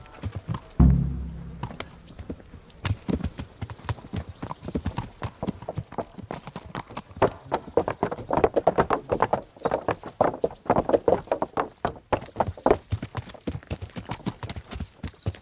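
A horse's hooves clip-clop steadily under a rider in the medieval video game Kingdom Come: Deliverance, a brisk, close patter of hoofbeats that thickens into a fast rhythmic gallop.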